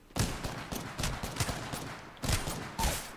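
Shots from the Wingman pistol in the Apex Legends video game: a handful of sharp, fairly loud reports spaced irregularly over a few seconds, with some game noise behind them.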